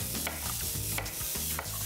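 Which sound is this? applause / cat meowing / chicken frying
chicken frying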